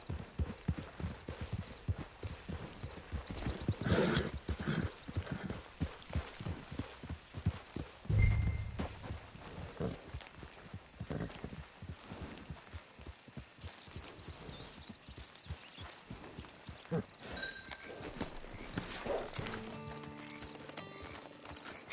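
Horses walk with a steady clip-clop of hooves that runs throughout, with a couple of neighs breaking in midway and again near the end, fairly close and moderately loud.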